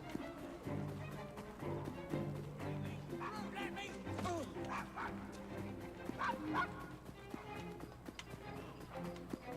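A dog in the video game Assassin's Creed Syndicate barks repeatedly in short bursts over background music and clopping hooves, with someone talking over it.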